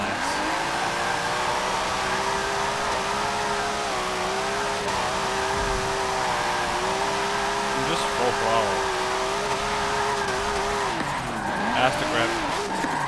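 A car drifts in the Forza Motorsport 7 racing game, driven as James Dean's car. A steady, droning engine tone holds throughout under continuous tire squeal, dipping and swelling near the end as the slide changes.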